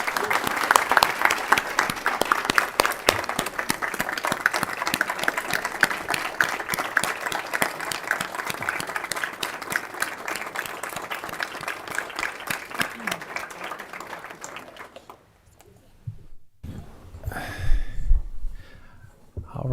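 A crowd at a state House veterans and military affairs committee hearing gives a long, dense round of applause that fades out near the end, followed by a few quiet sounds and breaths.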